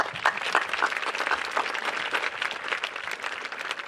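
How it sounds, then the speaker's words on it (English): Graduation audience applauding the class at a high school commencement, a steady dense wash of many hands clapping throughout, moderately loud and close. "Please give yourselves a round of applause."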